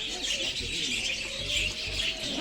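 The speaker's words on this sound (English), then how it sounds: "I like these birds also. They make very nice noise." Small budget birds in a pet shop chirp and tweet in quick bright bursts, moderately close, with low murmuring and shop noise beneath.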